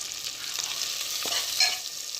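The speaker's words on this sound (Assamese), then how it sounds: "এতিয়া মই এটা বিলাহী কাটি দিছোঁ, বিলাহীটো ভাজি ল'ম" Chopped tomato fries in a pan with ginger and garlic for a local chicken curry, a steady bright sizzle with light, irregular stirring scrapes close by.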